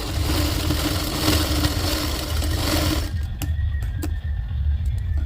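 A sewing machine runs in a steady, loud mechanical whir while stitching a folded saree pallu piece, then stops about three seconds in, leaving a few faint clicks and handling sounds.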